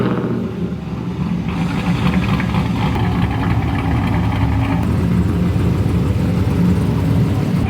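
An LS-swapped BMW E36 runs nearby with a continuous loud, rumbling engine note that holds steady throughout, rising slightly as if creeping forward, with no talking.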